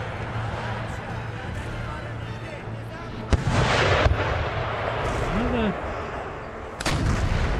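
Artillery and mortar fire in Empire: Total War during a fort siege, heavy booms and cracking blasts at intervals over a continuous battle rumble, with a voice speaking over parts of it.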